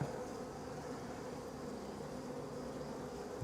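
Honeybees hum at an open Warré hive, a soft, steady buzzing that stays faint and continuous, with no voices over it.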